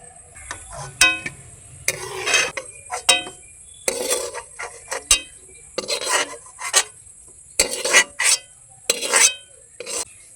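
Boiled soybeans and potatoes scooped from a pot with a metal ladle: bursts of scraping, rubbing and clinking utensil-on-pot sounds separated by short quiet gaps, close and fairly loud, without talk.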